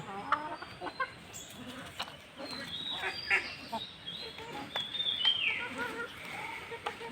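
Native free-range hens, including a white hen laying eggs, cluck and squawk in a farmyard with repeated short calls close by, over a background of outdoor noise.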